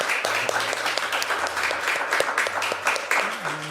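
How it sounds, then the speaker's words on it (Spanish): An audience claps for Eva González, a community manager introduced at a live event, moderately loud and steady throughout, with some voices faintly mixed in. "Pido un aplauso para ella."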